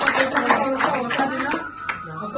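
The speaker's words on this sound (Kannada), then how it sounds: "ಅವರಿಗೆ ನಮ್ಮ ವಿದ್ಯಾಲಯ ಪರವಾಗಿ ಒಂದು ಜೋರಾದಂತ ಚಪ್ಪಾಳೆ." Audience applause for visiting guests from Indore at a school event in Vijayapura, a brief burst of many hands clapping mixed with crowd voices.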